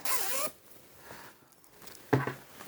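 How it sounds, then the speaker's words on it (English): A close zipper pull rasps up quickly, followed by a quiet pause and a second short zip sound. "Let me check that the zip goes up."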